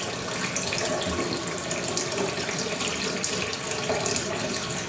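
Water gushes steadily as it is poured over foraged wild berries in a container and swirled, a continuous close splashing wash with no pauses.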